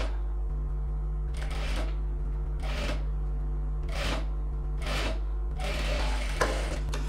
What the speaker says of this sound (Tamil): நான் ஃபோல்ட் பண்ணி ஸ்டிச் பண்ணிட்டேன்.